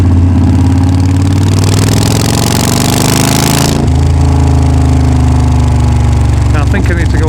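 Yamaha V Star 1300 motorcycle with a Cobra Fi2000R fuel controller, engine loud and close, rising in a throttle rev and then dropping back to a rough, loping idle, with a voice briefly over it.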